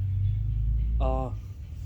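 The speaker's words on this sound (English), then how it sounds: "Alright, we'll start the car" A 2012 Chevy with a low fuel pressure fault (code P0191) rumbles with a deep, steady engine drone, with a brief tonal whine partway through, as the car starts and runs.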